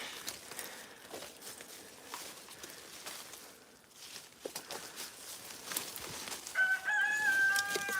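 Rooster crowing on a ranch out in the bush, a clear rising call near the end over steady outdoor ambience and rustling.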